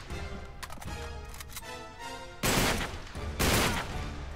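Gunfire rings out in the Uncharted 3 video game, starting with scattered light taps and clicks, then two loud, sharp bursts of shots later on, each ringing out before fading.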